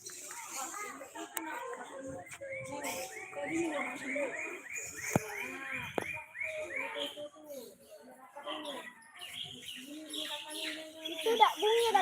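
Birds chirp and whistle in a bird park in Palembang, with steady tweeting and calls running through the clip while an adult and someone talk close by.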